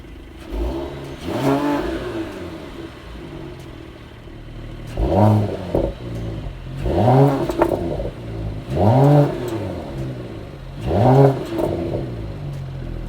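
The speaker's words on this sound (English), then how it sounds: "So in a minute, I am going to put it in Sport Plus, and I'll put this on and you can hear this car" A 2020 Mercedes-AMG E53 in Sport Plus mode revs its engine in four sharp, loud bursts, each exhaust blip rising and falling against a steady idle rumble, with no talking.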